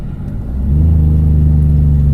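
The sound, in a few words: vehicle engine braking like a Jake brake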